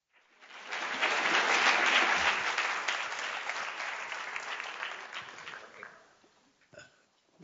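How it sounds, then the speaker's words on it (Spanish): A conference hall audience breaks into loud applause after a talk on urban commerce, the clapping swelling quickly, holding strong and then tapering away into near silence with a faint noise at the end. "Vamos, con un fuerte aplauso, por favor."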